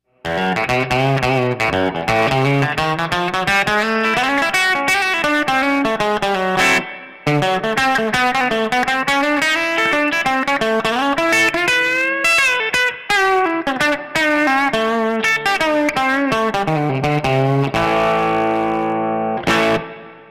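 An electric guitar through an Empress Compressor MKII with plate reverb plays a continuous melodic line with a smooth, compressed tone and lush reverb tails, loud and up close, ending on a sustained chord.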